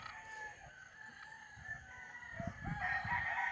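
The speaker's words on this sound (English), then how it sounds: "Those are not my hens and roosters." Roosters crowing with hens clucking at sunrise, several calls rising over a faint outdoor background, the loudest crow near the end.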